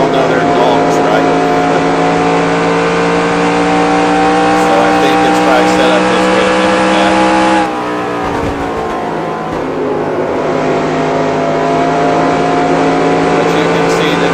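Race car engine from the NASCAR Racing 2003 sim holds a steady, loud drone of layered harmonics with a shift partway through, accompanied by someone talking over it throughout.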